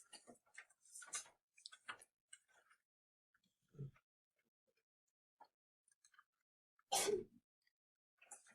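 A single sharp sneeze bursts out amid quiet, scattered speech and small clicks, loud and close, then things settle back down.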